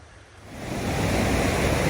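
Rushing water at The Boulders in the Babinda rainforest, a loud, continuous roar of torrent over rocks that swells in the first half second and then holds steady and dense, with no voices.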